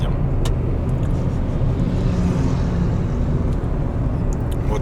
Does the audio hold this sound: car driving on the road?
yes